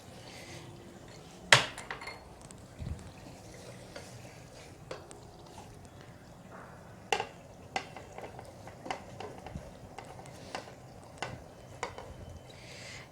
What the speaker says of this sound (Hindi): अब हम इसमें सूखा धनिया थोड़ा सा ऐड कर देंगे और इसको अच्छे तरीके से मिक्स करने के बाद हम इसमें गोभी डाल देंगे